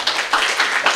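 A classroom of students clapping for a presenting group, a brief burst of dense, overlapping handclaps close by, loud and steady for about a second.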